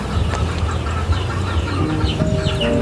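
Chickens cluck nearby in short, scattered bursts over a busy outdoor background, with a few higher calls toward the end.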